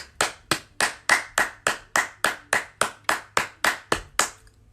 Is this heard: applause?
yes